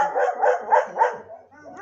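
A dog barks close by in four quick, evenly spaced yaps, followed by a softer whine, in a home yard setting.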